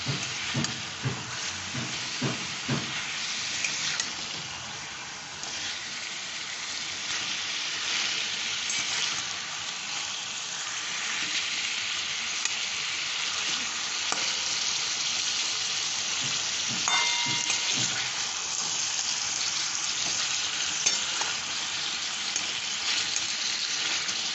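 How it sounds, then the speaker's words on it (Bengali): Chicken and potatoes fry with spices for a green chili chicken dish: a steady, close sizzle runs throughout, with clattering stirring strokes in the first few seconds. "এই সময় আমি আলুগুলোও দিয়ে দেব আলুগুলো এর সাথে সাথে একটু কষা হয়ে যাবে মশলাগুলো আলুর ভেতরে ঢুকে যাবে"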